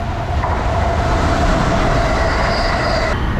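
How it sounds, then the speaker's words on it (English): An Acela Express train rushes through Metuchen station without stopping, a loud, close, continuous roar of rolling wheels with a steady high squeal running over it. "Here comes the Acela Express."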